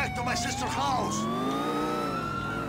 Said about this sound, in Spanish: Apaga las sirenas, a ver.